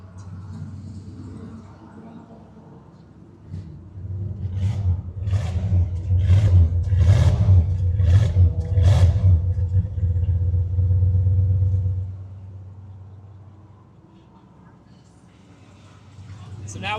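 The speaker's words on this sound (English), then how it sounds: "if you want to listen to that exhaust note" A 1987 Jeep Grand Wagoneer's engine idles with a low exhaust rumble, then revs in several sharp blips before settling back to a steady idle, close to the microphone.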